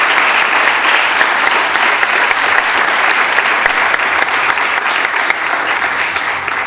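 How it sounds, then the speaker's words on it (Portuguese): Loud, dense applause from a large audience at an authors' gala event, an unbroken roar of clapping that holds steady from start to end. "uma salva de palmas para todos vocês que hoje apoiaram-nos neste enorme evento"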